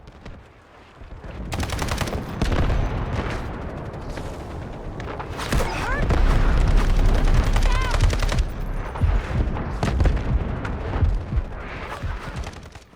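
Realistic gunfire in the video game Delta Force: dense bursts of automatic fire and heavy booms roll on almost continuously, loud and layered, with brief lulls between volleys.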